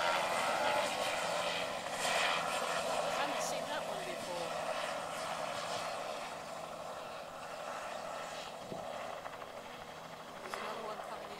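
An aircraft, probably a helicopter, approaches to land at a heliport, a steady broad engine and rotor roar holding throughout at moderate distance, with people talking over it.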